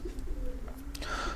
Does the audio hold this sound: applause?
no